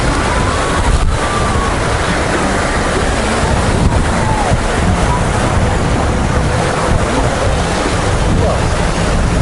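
Waves wash continuously at Tsilivi Beach on Zakynthos, Greece, a loud, broad surf rush mixed with heavy wind buffeting the microphone throughout.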